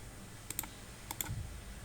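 A computer mouse clicks twice in quick pairs, sharp and close, against a quiet room hum.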